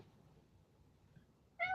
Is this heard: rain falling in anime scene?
no